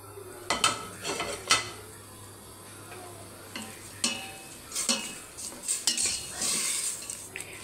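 A spoon scrapes and clinks against a metal pot as shredded cabbage and capsicum are stirred into chicken soup, with irregular close clatters and soft bubbling between strokes, no talking.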